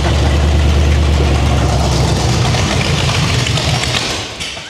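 A 1951 Ford F1 rat rod's engine cranks and catches, a loud, dense low rumble with rattling mechanical clatter that holds steady for about four seconds before easing off slightly at the end.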